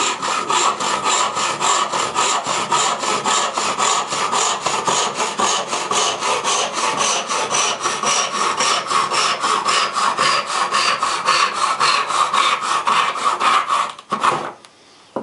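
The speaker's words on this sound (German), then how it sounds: "Ich schieb die Säge nur, ich gebe keinerlei Druck auf das Sägeblatt." A hand saw cuts steadily across wood grain with no downward pressure, dozens of quick even strokes in a brisk rhythm, close and loud, ending with a brief clatter.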